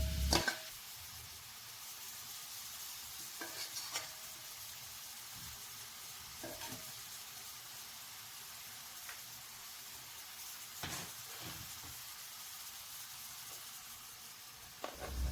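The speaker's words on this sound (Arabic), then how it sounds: "غادي نديرو شويه ديال الزيت في مقله سخونه، من بعد غنضيفو عليها بصله مشلضه" Grated onion frying in a pan of hot oil gives a faint, steady sizzling hiss with a few soft clicks and scrapes scattered through it.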